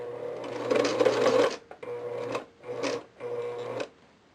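Sewing machine stitching an elastic casing on a cloth diaper: four close, buzzing bursts of rapid needle action, the first longest, separated by brief stops.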